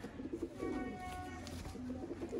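Pigeons coo softly and continuously in a loft, a low murmuring drone with steady background noise and no talk.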